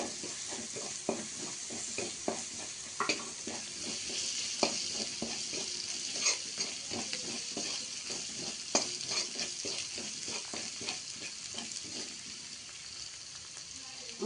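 Whole cloves, black pepper, cinnamon and cardamom sizzle steadily in hot oil in a pan for veg pulao, a constant frying hiss broken by small pops and occasional stirring scrapes, close and with no talking.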